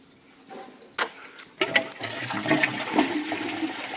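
Water rushing out of a reef aquarium's water change system as it drains, a gurgling flush that starts after a few faint knocks and keeps running steadily, close by and without voices.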